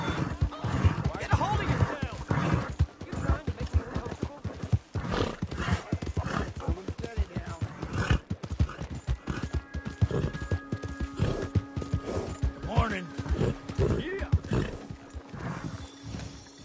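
Horse hooves clip-clop in Red Dead Redemption 2, a steady trotting rhythm with whinnies mixed in, up close and loud, while voices talk over it.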